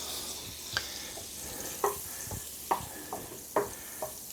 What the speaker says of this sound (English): we're gonna take our butter, I'm gonna throw it in the pan